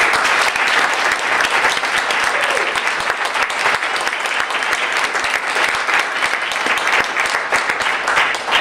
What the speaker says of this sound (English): And I think that she deserves a round of applause.